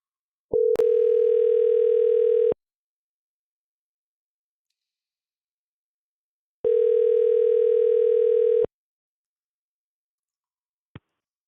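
A telephone line gives a steady electronic dial tone in two separate bursts of about two seconds each, clean and loud against silence, with a click at the start and a short blip near the end.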